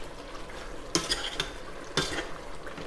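Spinach and smoked fish with added spice mix being stirred in a pot, a soft scraping with two sharp utensil knocks against the pot, heard up close with no talking.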